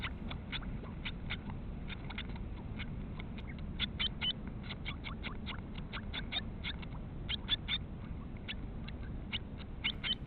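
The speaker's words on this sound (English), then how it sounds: "that raspier call that you're hearing there over the really soft chirping" Blue tit chicks call repeatedly in the nest, short high chirps in a quick irregular series over a low rumbling background, fairly faint.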